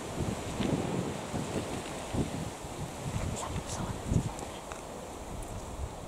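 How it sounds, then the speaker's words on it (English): Wind blows sand, making a continuous gusty roar with low buffeting rumbles that swell and ease across the clip. "The wind's taking the sand. away."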